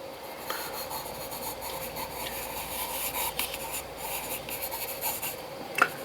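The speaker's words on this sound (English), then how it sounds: "Just lightly sketching, and we'll draw." A pencil sketches lightly across watercolour paper, making a soft continuous scratchy rub with short strokes and a sharper tap near the end. It is close and quiet, with no voices.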